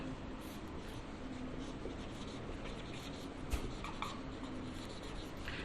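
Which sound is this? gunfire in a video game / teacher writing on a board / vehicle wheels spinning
teacher writing on a board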